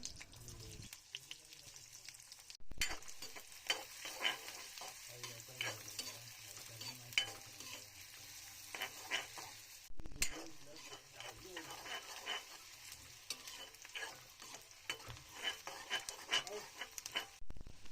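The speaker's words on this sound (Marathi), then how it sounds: "कढईत तेल गरम झाल्यावर लसूण कांदा घालून परतून घ्या" Garlic and onion sautéed in hot oil in a wok, with a steady soft sizzle and frying hiss under repeated stirring scrapes, continuous and close but fairly quiet, broken by two brief gaps.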